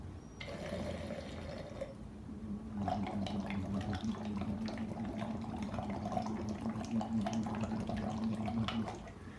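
Humming into a BreathSlim breathing trainer filled with water sets off a steady bubbling and splashing, first a brief tonal hum with light bubbling, then a louder continuous gurgle and splash that runs on without pause, close and alone.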